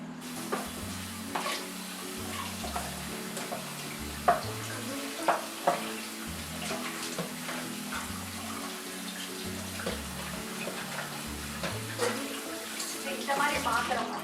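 Water runs steadily from a tap while greasy kitchen vessels are scrubbed with a fibre scrubber, with occasional clanks of the vessels over low background music.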